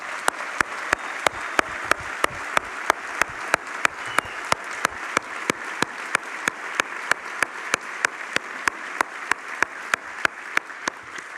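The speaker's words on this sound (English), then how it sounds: "hearty round of applause." Audience applause at an MBA graduation ceremony, a sustained, even wash of many hands clapping for about eleven seconds, with sharp regular clicks running through it.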